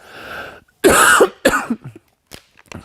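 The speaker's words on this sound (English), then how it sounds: "Excuse me, I need to cough." A single harsh cough close to the mic, followed by a couple of smaller throat-clearing coughs and a few faint trailing noises.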